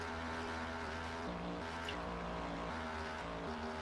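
Several race cars in a racing video game holding full throttle, their engines droning in layered steady tones with small pitch shifts as gears change, a continuous roar with no talk.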